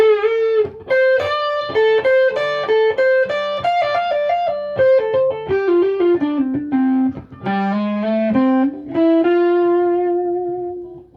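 Distorted electric guitar plays a descending run with repeated string pull-offs, sustained notes with effects, loud and alone, ending on long held tones.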